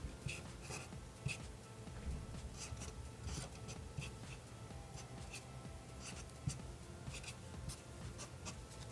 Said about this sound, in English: so we'll draw some curls